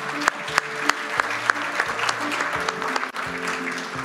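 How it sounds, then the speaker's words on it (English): Audience applause after a panel discussion at a digital-government conference, mid-sized crowd clapping with a few distinct sharp claps and faint voices murmuring underneath. "Big round of applause, please, for our discussion."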